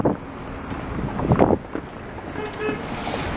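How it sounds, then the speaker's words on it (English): Cold wind gusting outdoors beside commuter train tracks in Montreal in November, a broadband rush against the microphone that swells and fades over a few seconds with no voices. "It's the cold and the wind."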